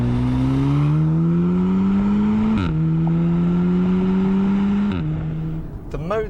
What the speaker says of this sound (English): every time you change gear, it just makes a very loud crack.